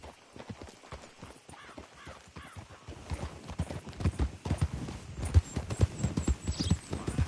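A horse's hooves clip-clop in Red Dead Redemption 2, starting soft and quickening into a louder galloping rhythm as the clip goes on.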